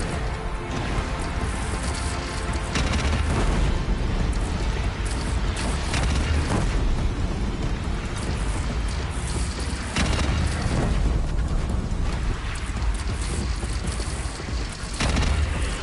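Repeated cannon blasts and explosions in the video game Horizon Zero Dawn, heavy booming bursts at irregular intervals over a loud, continuous rumbling battle din with no talk.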